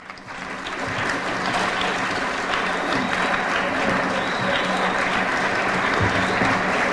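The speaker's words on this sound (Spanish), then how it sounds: "Recibamos a Antonio Domingo Ruiz con un fuerte aplauso." At an educational excellence awards ceremony in Spain, an audience breaks into applause that swells within the first second and continues as a full, steady roar of clapping, with no voices heard.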